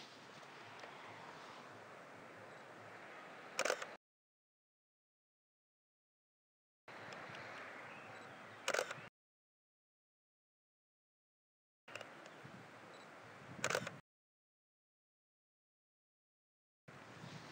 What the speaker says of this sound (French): je vais prendre 3 photos.